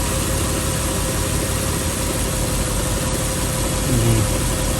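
A 2007 Toyota Tundra with the 4.7-liter engine idles steadily nearby, a constant low rumble and hum with no change in pace.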